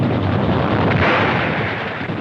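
Artillery and gunfire from a 1943 WWII newsreel on the Soviet front: a loud, dense, continuous roar of battle with a heavier blast swelling in the middle, harsh and distorted like old film sound.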